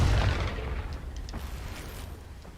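A Confringo fire spell explodes in Hogwarts Legacy with a loud, deep boom at the start, then a rumbling tail that fades slowly over a couple of seconds.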